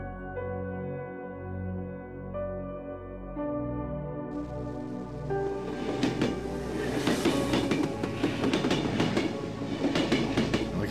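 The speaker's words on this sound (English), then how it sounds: "I like that train just coming in." A train pulls into a station in the horror game Cry of Fear. A low rumble builds into loud, dense rattling and clatter as it arrives, heard alone with no talk.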